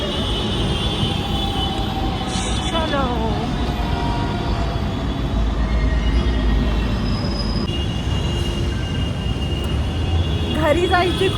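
Metro train at an underground metro station, a steady loud rumble of rail cars with brief wheel squeals, with people talking faintly in the background.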